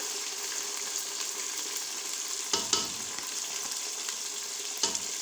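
Browned onions fry with tomato and ginger garlic paste, giving a constant close sizzle and hiss, broken by a few brief stirring knocks of a utensil in the pan.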